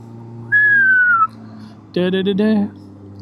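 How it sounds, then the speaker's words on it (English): Someone whistles close into a microphone while out on a Suzuki Bandit 600 motorcycle ride: a steady falling note, a pause, then a louder wavering whistle, over a low engine hum. "I just whistled into the mic"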